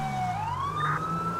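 A police car siren wails in a cops role-play video game, its tone sweeping upward and holding high over a steady engine hum, loud and close with no talking.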